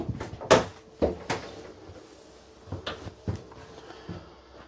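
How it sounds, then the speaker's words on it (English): A sliding door in the bathroom of a 2024 Forest River Cedar Creek 3325BH bunkhouse fifth-wheel RV, heard as several close knocks and rattling thuds spaced irregularly, the door being pushed and bumped along its track. "So sliding door."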